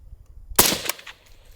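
A single suppressed shot from a Springfield Armory Hellion VHS-2 rifle: one close, sharp, muffled crack with a short rustling decay, set between quiet stretches.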